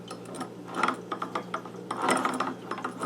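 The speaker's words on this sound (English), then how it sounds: "let me roll this crankshaft over, and you can see how these gears interact" The crankshaft of a 1980 Suzuki FZ50 moped engine is rolled over by hand with the transmission open, giving a close, uneven series of ratcheting clicks and metallic gear rattles that continue throughout.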